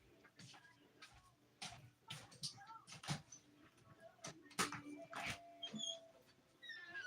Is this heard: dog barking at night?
yes